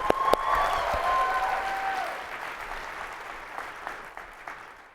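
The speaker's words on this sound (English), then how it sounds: "One more clap for my fellow presenters." Audience applause at a general session of a convention, a dense wash of clapping that swells at the start with a few whoops and tonal cheers, then gradually thins and fades across the clip.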